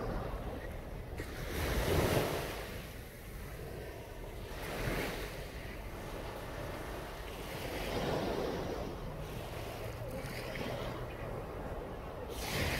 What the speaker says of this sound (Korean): 자, 파도 소리 들리죠?